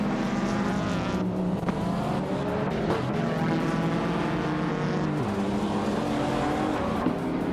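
Racing video game start at Circuit Hawaii with a 1990 Nissan Pulsar GTR leading the pack: loud, continuous engine roar and revving from several cars, pitch rising and shifting through gear changes.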